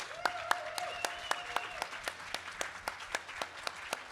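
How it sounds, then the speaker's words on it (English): Scattered audience applause at a Tesla community event, a steady run of separate claps evenly spaced from a modest crowd, moderately near, with a faint whistle-like tone early on and no talk. "So please, big hand of applause."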